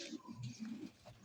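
Pigeons kept for sale, including racing and highflyer breeds, coo close by in a few soft, low, throaty phrases, quiet and rhythmic.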